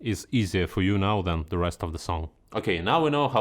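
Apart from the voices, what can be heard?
None of the usual background noises is heard.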